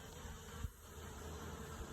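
Honey bees flying in and out of the entrance of a troubled hive with plastic around it, a faint, continuous buzzing hum with one soft thump.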